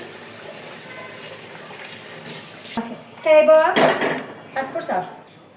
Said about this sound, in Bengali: এই যে সুন্দর করে ভালো করে মাখা সেই সামান্য একটু জল দিয়ে দিব।